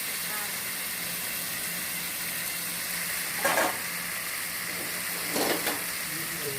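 Marinated meat for Bengali kosha mangsho goes into a hot pan with spices, producing a steady close sizzle with two louder hissing bursts as pieces are added and stirred.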